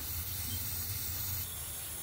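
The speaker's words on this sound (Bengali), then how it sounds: "এই যে কড়াইয়ে সরিষার তেল গরম করে নিয়েছি, এখন এতে দিয়ে দিচ্ছি কাঁচামরিচ" Green chilies sizzle in hot mustard oil in a wok, a steady, bright hiss that holds evenly throughout and eases slightly toward the end, with no talking over it.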